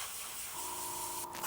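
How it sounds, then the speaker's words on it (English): A short, soft, steady hiss of spray paint as shamrock green is misted onto a miniature, faint and close. "we're going to come in with our shamrock green, and we'll spray from the top"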